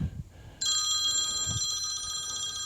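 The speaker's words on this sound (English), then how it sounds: "That's my phone." A phone rings loudly and steadily with a bright, continuous electronic trill, starting partway in and running to the end, over faint workshop clatter in a garage during engine work on a 2020 Subaru STI.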